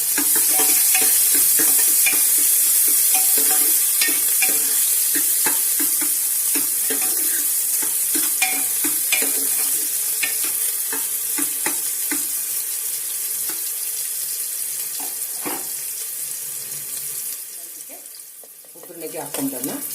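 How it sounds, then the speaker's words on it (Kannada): Chopped onion tossed into hot oil for a tempering, sizzling steadily up close with repeated stirring clinks and scrapes against the pan, the frying quieting briefly near the end. "ಎಣ್ಣೆ ಬಿಸಿಯಾಗಿದೆ, ಈರುಳ್ಳಿ ಕಟ್ ಮಾಡ್ಕೊಂಡಿರೋದು ಹಾಕೊಳ್ತಾ ಇದ್ದೀನಿ."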